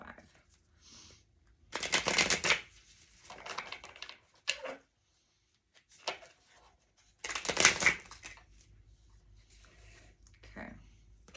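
Tarot cards are shuffled and drawn in several quick papery bursts of riffling and flicking, separated by pauses, with a person speaking softly between them.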